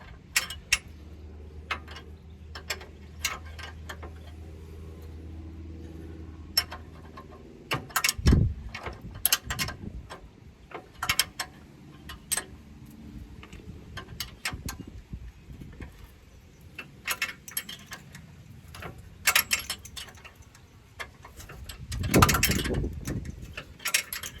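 Ratchet tightening bolts on an Audi A4 Quattro engine head, with bursts of sharp clicking spread irregularly over a quiet workshop background and a louder clatter near the end.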